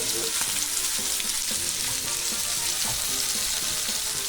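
Chicken meat sizzling and frying loudly in a hot pan, a dense continuous crackle with spitting pops throughout and no talk.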